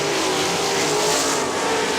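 Sprint cars racing at Kokomo Speedway, a loud, continuous roar of engines at full throttle on the dirt oval, several cars blending into one steady blare.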